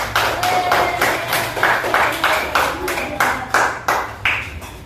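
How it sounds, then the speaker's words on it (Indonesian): A classroom of pupils claps in unison, a quick rhythmic series of about a dozen sharp, fairly close claps in steady beats, sounding alone. "Beri tepuk tangan."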